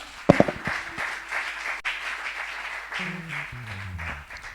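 A church congregation at a French-language worship service bursts into a short round of applause, a few loud claps at first then a steady patter that fades, with murmured voices and a musical tone underneath.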